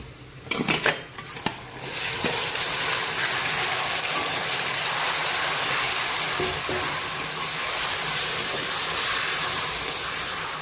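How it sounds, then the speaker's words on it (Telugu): Marinated chicken goes into a pan of fried onions for biryani, a few sharp clanks at the start, then a loud, continuous sizzling hiss that holds steady throughout. "స్టవ్ ఆఫ్ చేసుకొని ఇప్పుడు ఈ చికెన్ ఏదైతే ఉందో మనం మ్యారినేట్ చేసుకున్నంత బిర్యానీ కోసం ఆ చికెన్ని ఇందులో వేసుకోవాలి"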